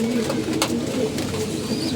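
A pigeon coos softly in low, repeated calls near a loft where several pairs are kept, steady and unaccompanied by talk.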